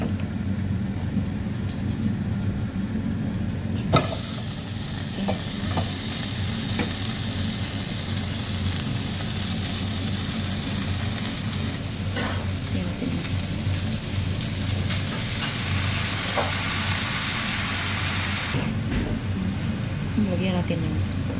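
Chicken sizzles and fries steadily in a pan for chicken with Sprite, a dense crackling hiss with occasional stirring clicks, loud and continuous.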